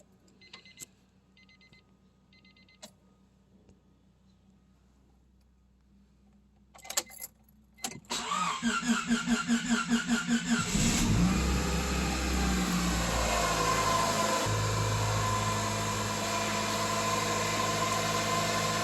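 A car engine, just rebuilt with a new head gasket, cranks after a few quiet clicks and catches, then settles into a loud, steady idle with a rhythmic pulsing that continues to the end.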